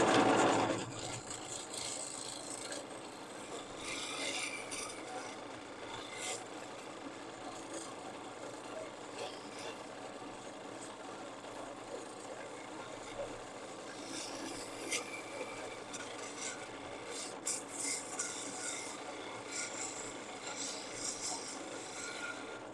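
Wood turning on a lathe with a spindle gouge, a steady rasping, scraping cut that runs continuously and fairly close, with brief louder bursts, under a constant motor hum.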